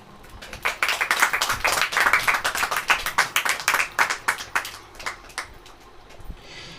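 A church congregation claps in rhythm at a sermon gathering. Crisp, regular hand claps rise to a full burst, then thin out and slow before stopping.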